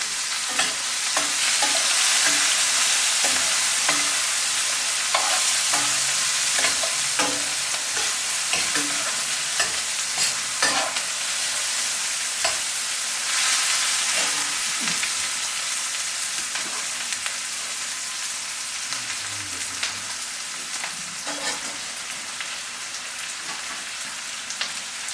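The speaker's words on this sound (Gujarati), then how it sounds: "આદુ, મરચાં વઘારતી રહેશે. સરસ મજાનો ધીમા તાપે" Ginger and chili sizzle as they are tempered in hot oil over a low flame, a steady close crackling hiss with scattered pops and occasional stirring scrapes running throughout.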